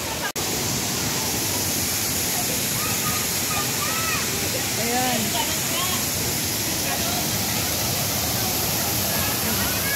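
Water pours and rushes steadily at Green Falls mountain resort, a continuous broadband wash of falling water heard up close, with someone talking briefly over it.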